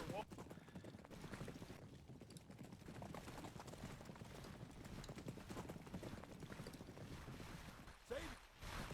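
Cavalry horse hooves in the Civil War strategy game Grand Tactician, a dense faint clatter of many hoofbeats mixed with wind-like ambience, distant and continuous, with a soft thump near the end.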